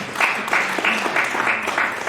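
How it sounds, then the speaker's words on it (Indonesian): Lively applause at a church prayer service, a close, steady patter of clapping with a few rhythmic pulses, loud and continuous throughout. "Tepuk tangan yang meriah untuk kamu."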